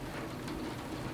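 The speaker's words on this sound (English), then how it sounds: "Thunder is accompanying that lightning." Heavy summer rain pours steadily and loudly during a thunderstorm, with a low rumble of thunder blended into the dense, continuous downpour.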